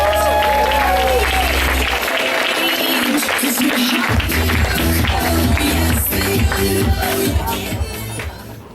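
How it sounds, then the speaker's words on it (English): An audience at a comedy show applauds a comedian coming on stage, dense clapping and crowd noise throughout, while a voice speaks over it. "Let's have a big round of applause for Courtney Ca."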